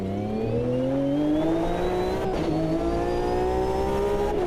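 A race car in AMS2 holds a high, rising engine note that climbs steadily, with a short break mid-clip before it climbs again, over faint tyre and road noise and no talk.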